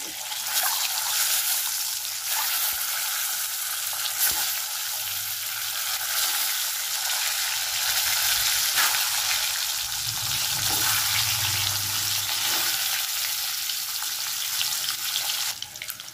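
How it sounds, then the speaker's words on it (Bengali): Eggs fry in hot oil with turmeric in a pan, a steady crackling sizzle throughout with occasional sharp pops and faint background sounds. "আমার ডিম ভাজা হয়ে গেছে।"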